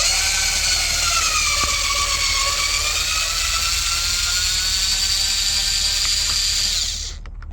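A power driver with a Torx 20 bit whirs continuously for about seven seconds, backing a screw out of a Range Rover Sport L40 driver door panel, then stops abruptly.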